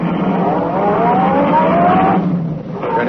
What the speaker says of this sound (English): Turning onto the road, Bertrand pressed down on the accelerator. The sedan sped along the concrete after Brinkley's car.